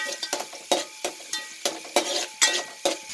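Fenugreek seeds frying in hot oil in a pan for kuzhambu, heard as a soft steady sizzle broken by about a dozen sharp clinks of a spoon stirring against the pan at a roughly even rhythm.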